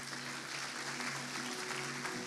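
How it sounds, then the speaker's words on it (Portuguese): Congregation applauding during a church service, a faint, distant, even patter of many hands clapping that continues steadily throughout. "Você deveria até aplaudir a Jesus por causa disso."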